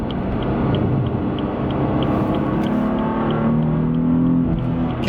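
BMW F80 M3 with 425 horsepower accelerating hard, a loud steady engine drone rising in pitch with rear tires fighting for traction, continuous throughout with mechanical whine and no talk.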